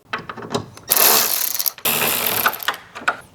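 A ratchet wrench loosens 10mm grille bolts on a Chevrolet Silverado 1500, giving a close, loud rapid clicking of the pawl in quick bursts with brief pauses, with no talk.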